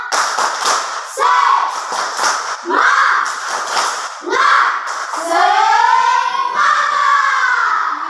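A classroom of pupils performs the rhythmic 'tepuk semangat' clap routine, sharp bursts of clapping in patterned groups, interleaved with loud group chanting.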